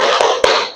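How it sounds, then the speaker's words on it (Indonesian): A classroom of students claps the rhythmic tepuk semangat, loud close hand claps with two sharp accented strikes over a brief burst of clapping. "Tepuk semangat."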